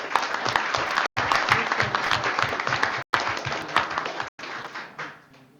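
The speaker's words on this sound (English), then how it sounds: "So another round of applause for Jesse on that one." Applause from the audience at a school board of education meeting, a steady wash of many hands clapping with brief cuts in between that fades out at the end.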